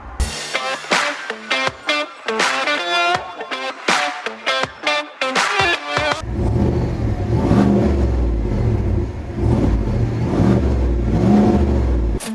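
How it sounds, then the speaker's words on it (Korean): A GMC Sierra full-size pickup with a 6.2-litre V8 sets off as a run of short, punchy revving bursts that give way to a steady, loud, deep engine drone from about six seconds on. "자, 오늘은 GMC 시에라를 타고 왔습니다."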